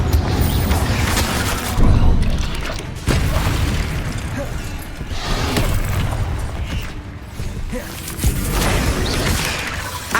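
Confringo fire-blast spells in Hogwarts Legacy, a string of loud close booms and crashing bursts over busy mechanical battle clatter, recurring every couple of seconds.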